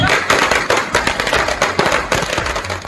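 Firecrackers set off by party supporters at a street celebration, a loud, rapid chain of crackling bursts popping continuously and close, with crowd noise mixed in.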